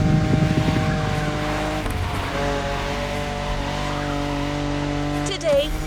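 A BMW M5 Drift Edition drifts in the racing game The Crew Motorfest, its engine holding a steady loud drone with a short tire squeal near the end, and a voice talks over it.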